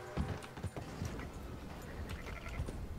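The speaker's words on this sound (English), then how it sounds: "It's no place for a horse to be." Horse hooves clip-clop steadily in Red Dead Redemption 2, with a regular rhythm of close, moderately loud hoof strikes over low ambient game noise.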